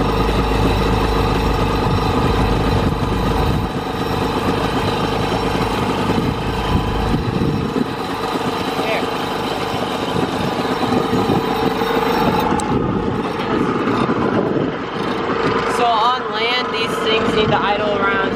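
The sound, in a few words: jet ski engine idling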